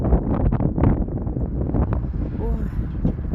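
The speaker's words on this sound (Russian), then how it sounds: "Ветер у нас стоит сумасшедший." Strong wind buffets an outdoor microphone on a gusty morning in Gudermes, Chechnya, giving a loud, continuous low rumble that swells and dips throughout.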